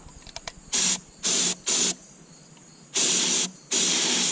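A Harbor Freight air sprayer shooting Rust-Oleum primer in five loud, hissing bursts of varying length separated by short pauses, close to the microphone, with faint clicks before the first burst and no talking.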